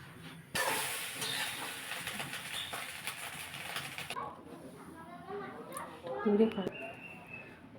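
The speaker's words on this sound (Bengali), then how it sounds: "অল্প তেলে আমি এই 3টে ডিম ভেজে নেব।" Three eggs fry in a little oil in a kadai. A loud sizzling hiss starts abruptly and runs about four seconds, then fades as a voice speaks.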